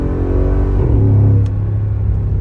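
A 2013 Mercedes G63 engine revs loudly up close, a deep rumble climbing in pitch and then easing back down over a couple of seconds.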